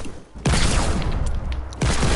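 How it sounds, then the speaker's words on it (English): Hand cannon fire in a video game, two heavy booming shots about a second and a half apart, each followed by a dense, sustained crackle of gunfire and explosions. "Are you hand cannoning me?"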